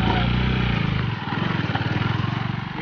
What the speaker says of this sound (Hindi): अमन भाई ट्राई कर रहे हैं बाइक चढ़ाने के लिए